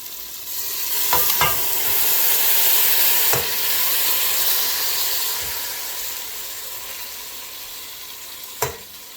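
Pork belly sautéing with onions and tomato in a pan for sinigang na baboy, a steady loud sizzle and hiss throughout with a few sharp utensil clicks and stirring scrapes, no talking.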